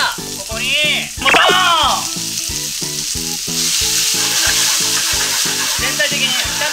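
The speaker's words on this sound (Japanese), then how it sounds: "全体的に炒め合わせていきます" Gyoza sizzle loudly in a hot pan, with a steady rhythmic clatter as they are stirred and tossed and the hiss swelling midway through.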